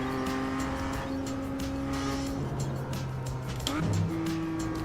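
A race car engine holds a steady half-throttle drone with an audible shift in pitch partway through, heard on a first lap in the iRacing sim while warming the tires at an unfamiliar track, loud and continuous under faint tire noise.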